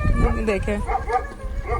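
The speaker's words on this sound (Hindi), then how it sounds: "कुत्ता भी भौंक रहा है पीछे से" A dog barks a few times in the background, short yaps mixed under someone speaking close to the microphone.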